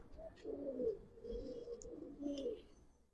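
Giribaz tumbler pigeons kept in a collection give soft, low cooing in two faint bursts, one early and one near the end, over a quiet background.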